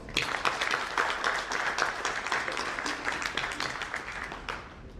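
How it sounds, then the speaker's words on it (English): An audience at a management association convention in Ghaziabad applauds to welcome dignitaries, a dense, loud round of clapping that holds steady for several seconds before tapering off. "welcoming all the dignitaries by giving them a good round of applause"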